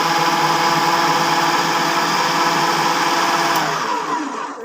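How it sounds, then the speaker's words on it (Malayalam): Mixer grinder jar whirring loudly and steadily as it chops cabbage, a constant high motor whine close by that cuts off at the end. "നീളത്തിലൊന്ന് അരിഞ്ഞിട്ട് നമുക്ക് മിക്സിയുടെ ജാറിലിട്ടേച്ച് പെട്ടെന്നൊന്ന് സ്ലൈസ് ചെയ്തെടുക്കാവേ."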